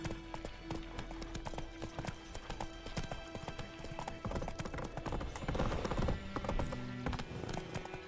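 Geralt's horse Roach gallops in The Witcher 3, a steady fast clip-clop of hooves sustained throughout at moderate volume, with a faint whinny and background game sounds.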